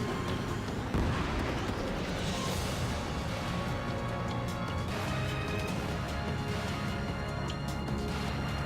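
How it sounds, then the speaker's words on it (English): A missile strikes a bomber in the Ace Combat 7 air-combat game, setting off a dense, rumbling explosion with a sharp burst near the start that rolls on as continuous heavy booming and crackling debris. "Bomber hit by a missile."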